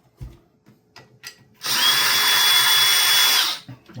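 A power drill whirs steadily for about two seconds, close and loud, backing screws out of the front bumper on a Mackie 1202-VLZ Pro mixer during a no-power repair.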